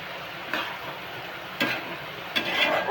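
Moth beans with green chilli sautéing in a pan, a steady sizzle broken by three scraping stirs of a spatula, close and without talk.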